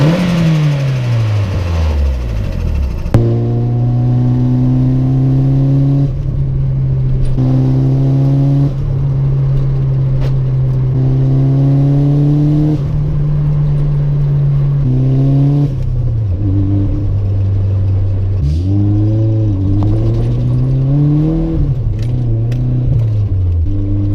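A Nissan S13 fitted with a bigger turbo revs hard on the road, its engine note climbing and dropping through repeated gear changes in a loud, steady drone with no talk.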